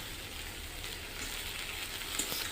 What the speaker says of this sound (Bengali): এখনও সব কিছু ভাজা চলছে।